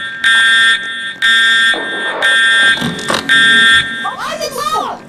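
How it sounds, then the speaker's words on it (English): A loud tornado siren blares in repeated harsh bursts, pausing between blasts, then shifts to a warbling tone while people talk over it. "This is the alarm."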